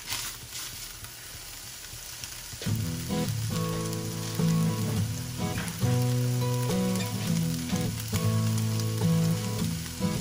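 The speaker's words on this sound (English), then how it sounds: "So now I'm just getting the pasta into a hot skillet with a little bit of butter" Low-carb pasta frying with butter in a hot skillet: a soft hiss at first, then a steady, close sizzle with crackling and stirring scrapes that lasts to the end.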